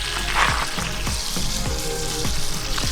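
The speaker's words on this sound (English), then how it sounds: "That's the steaks just flipped over there" Steaks fry in olive oil in a frying pan, a loud, dense sizzle that crackles steadily up close, with faint periodic knocks beneath it and no talking.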